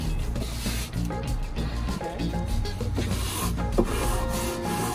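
A wooden side table being hand-sanded with a block: steady, close, rasping strokes that rub continuously and with even loudness throughout, with no talking.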